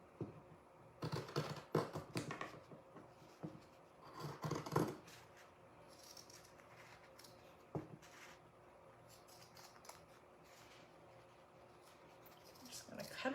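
Scissors snip a jagged Christmas tree shape from material, giving soft intermittent crisp cuts in short clusters, faint and close, with a quiet voice talking at moments.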